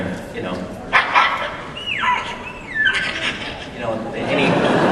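A person imitates a dog with a series of whiny yips and a rising-falling whimper, voiced close to the microphone.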